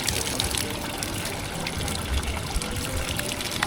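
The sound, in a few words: public drinking fountain water running in Skopje Old Town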